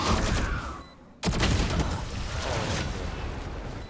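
Gunfire in the first-person shooter Valorant cracks out in bursts, with a sharp shot and a sudden silent cut, then continued rattling fire and in-game effects fill the rest, fairly loud and close.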